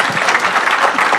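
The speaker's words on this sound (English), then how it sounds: "another round of applause for the panelists" Steady applause from a conference audience for a panel, dense clapping filling the whole moment without pause, fairly loud and close.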